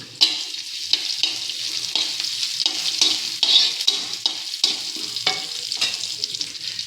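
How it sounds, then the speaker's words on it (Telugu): Mustard seeds, cumin, dried chili and garlic sizzle in hot tempering oil for a capsicum sambar, a steady bright hiss broken by repeated scraping stirs and little crackles, close and alone. "కొంచెం ఆవాలు వేసేద్దాం, కొంచెం జీలకర్ర వేసేద్దాం, ఒక ఎండుమిరపకాయ వేసేద్దాం, తర్వాత కొంచెం వెల్లుల్లిపాయలు."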